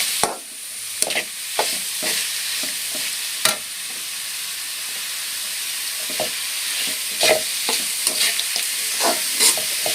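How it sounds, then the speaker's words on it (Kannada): Carrot gojju with turmeric and salt stir-fried in a pan, a bright steady sizzle broken by sharp spatula scrapes and clacks at irregular intervals, close and clear with no voices. "ಇವಾಗ ಇದನ್ನು ಚೆನ್ನಾಗಿ ಫ್ರೈ ಮಾಡ್ಕೋಬೇಕು"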